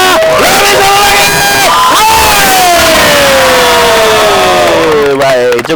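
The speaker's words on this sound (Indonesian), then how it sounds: "Lebih kencang lagi tepuk tangannya" A large audience cheers and shouts together at a motivational seminar, a loud, sustained crowd roar with rising whoops filling the whole clip before cutting off near the end.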